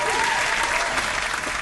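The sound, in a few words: round of applause for the guest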